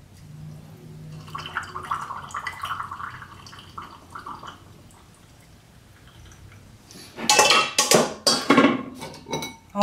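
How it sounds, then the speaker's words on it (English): Vinegar and salt mixture is poured over fish to make fermented bagoong, with quiet early clinks and trickles, then a loud splashing, clattering pour near the end. "pour in the vinegar and the salt mixture"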